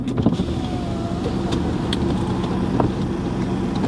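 Car power windows roll down while parked, a steady electric motor whine running for several seconds inside the car, with faint clicks and light cabin noise around it.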